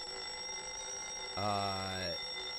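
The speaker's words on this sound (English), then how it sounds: "Not the loud-ass alarm clock, man." A loud alarm clock in the old horror film Carnival of Souls rings in a single brief buzzing burst of under a second, cutting through a thin, steady soundtrack drone.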